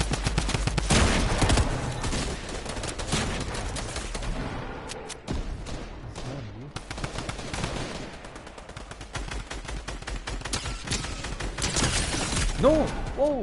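Video game gunfire, with a sniper shot among heavy rattling volleys, sharp cracks and mechanical clatter, loud and dense. Gaps and bursts come through, and brief glassy shatters are mixed in.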